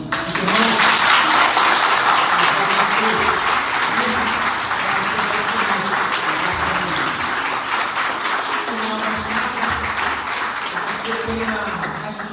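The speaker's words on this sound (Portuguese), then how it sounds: "Gostaria que a igreja aplaudisse." A church congregation applauds at the close of an Easter cantata service, with sustained loud clapping from a large indoor crowd and a few voices faintly audible beneath it.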